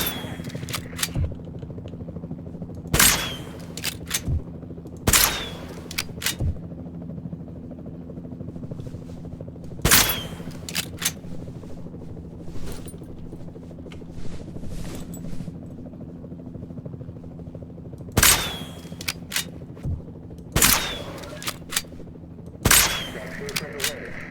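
Gunfire in the video game Jurassic World Evolution 2: scattered sharp shots and short bursts over a constant helicopter drone, with a voice speaking at times.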